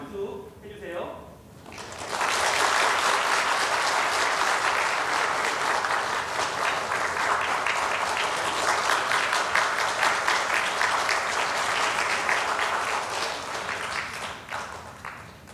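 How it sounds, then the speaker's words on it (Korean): A Korean church congregation at Sunday worship applauds as gifts are handed to elders over seventy: a dense, sustained roar of clapping bursts in after a brief moment of quiet and runs unbroken for about thirteen seconds before easing. "여러분 전달할 때 박수 해주세요"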